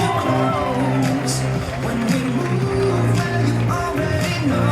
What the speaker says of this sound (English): A big cheer for Ewan